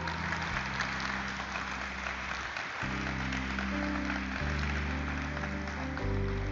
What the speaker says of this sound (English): Can we please have a huge round of applause and let this not stop?